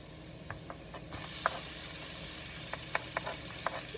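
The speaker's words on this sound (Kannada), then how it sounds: "ಈರುಳ್ಳಿ ಹಾಕಿಬಿಟ್ಟು ಈರುಳ್ಳಿನೆಲ್ಲ ಫ್ರೈ ಮಾಡತ್ತೀನಿ." Onions frying in a pan give a steady sizzle that grows denser partway through, with a few light scrapes of stirring rising above it and no voices.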